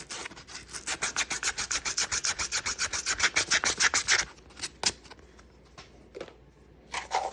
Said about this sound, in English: Let's go ahead and sand this side down, make it comfortable.